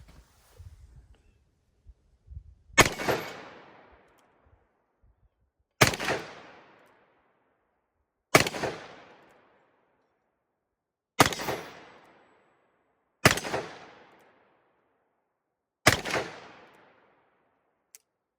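A 2020 Colt Python revolver fires six sharp, loud shots at a slow, even pace of a few seconds apart, each crack ringing out and decaying quickly, with faint handling noise before the first.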